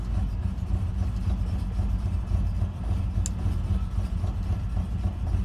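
A Ford Ranchero sits in park with its engine idling, a steady low rumble running unbroken throughout with no voices.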